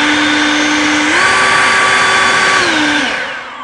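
An EGO 530 battery leaf blower whines steadily up close, stepping up in pitch when the turbo kicks in, holding at full speed, then winding back down near the end.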